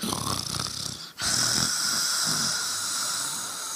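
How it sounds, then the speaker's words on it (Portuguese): A person snoring in deep sleep, with a steady rasping breath that fills the whole stretch apart from one brief pause, loud and close with no talk over it. "Está roncando, está dormindo profundamente"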